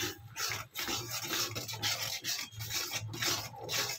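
A cup of mixture is stirred into boiling water in a pot, giving repeated scraping, rasping strokes in an even back-and-forth rhythm, close and fairly quiet, with no talking.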